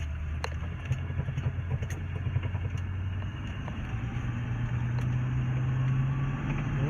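A 1978 Ford LTD Landau two-door coupé engine pulls smoothly under acceleration while driving, a steady low rumble rising gradually in pitch from inside the car, with faint clicks and no talk.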